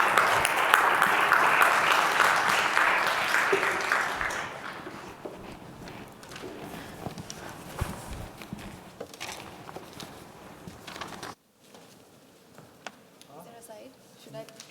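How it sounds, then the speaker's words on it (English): A conference audience at Ignite 2024 applauds to welcome a keynote speaker, the clapping loud at first and then thinning into scattered claps and murmuring before dropping away near the end. "Please welcome, with a round of applause, our keynote speaker, Fatima Kardar,"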